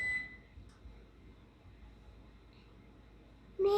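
An oven timer is set for a batch of honey cookies (medenki): a short electronic beep opens and another ends, with quiet kitchen hum between.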